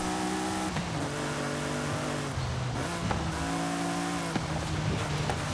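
A heavily modified car revs high in Forza Horizon 5, its engine tone rising and falling through shifts and staying loud and steady near the listener throughout.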